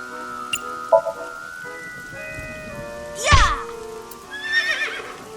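A merry-go-round horse in the video game AI: The Somnium Files lets out a single shrill whinny midway, amid rain-like ambience and soft musical tones.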